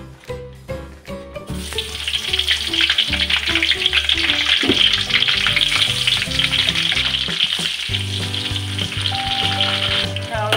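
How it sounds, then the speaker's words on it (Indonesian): Eggplant frying in hot oil for a spicy fish and green chili dish gives a loud, steady sizzle that carries throughout, with a few clinks of cookware at the start and no voices. "Nah, ini terongnya kita goreng dulu."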